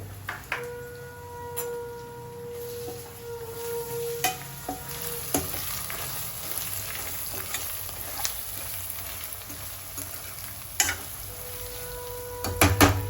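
Curry spiced with garam masala is stirred in a frying pan, with soft sizzling and scraping, a spoon knocking against the pan now and then, and a few louder clanks near the end.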